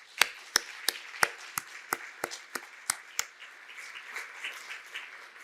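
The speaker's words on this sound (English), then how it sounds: "So please join me in their applause." Scattered hand claps from a small audience at a health symposium, about a dozen sharp claps at first, then thinning into a softer patter that fades out.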